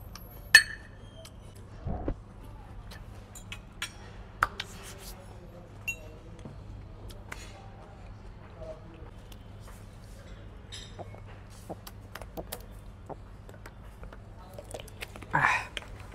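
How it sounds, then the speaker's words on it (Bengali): Someone eats coleslaw with a fork at a hotel dinner, with a few quiet clinks of the fork against a plate and soft chewing amid low room hum and occasional faint murmurs. "কাঁটা চামচ দিয়ে কসলো খাই।"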